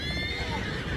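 Horse whinnying in the video game Red Dead Redemption 2, a short, fairly loud neigh over a steady bed of game ambience.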